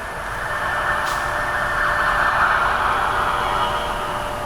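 An ambulance siren wails steadily over road noise, loud and continuous, with traffic rumbling underneath.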